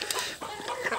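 Chickens cluck steadily in a free-range poultry farm setting, several birds close by with overlapping short calls continuing throughout, no talking.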